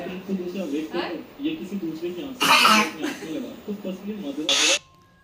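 A small child with a slight cough lets out two short, harsh coughing bursts close to the mic, amid steady household conversation between adults.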